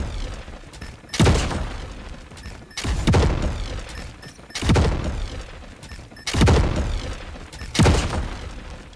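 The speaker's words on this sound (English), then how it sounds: "it's a custom explosion effect as well, which is quite cool" FHJ-18 launcher custom explosion effect from COD Mobile: five loud, booming blasts spaced about every one and a half seconds, each a sharp broadband burst with a rumbling, crackling tail, no voices.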